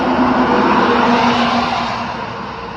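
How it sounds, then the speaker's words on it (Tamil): A Hyundai Creta engine runs loudly and steadily up close with a low humming tone, easing off slightly toward the end. "வாங்க வண்டியோட இன்ஜின் சவுண்டு எப்படி இருக்குது அப்படிங்கிறத பார்ப்போம்."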